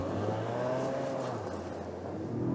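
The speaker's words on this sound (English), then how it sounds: "a pleasing growl that steps up as the revs climb and the VTEC system gets things breathing" A 2022 Acura MDX A-Spec's 3.5-liter VTEC V6 engine growls steadily and loudly up close, its tone rising slightly as the revs climb.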